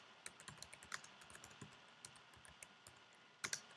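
Fingers tap quickly on a computer keyboard, a close run of light, crisp keystrokes with irregular rhythm and a couple of sharper clacks near the end, with no talking.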